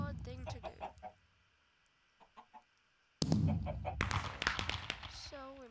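Minecraft chickens cluck in a Farm Hunt game, with a few soft clucks at first and then a louder, busier stretch of game sounds and clucking near the end.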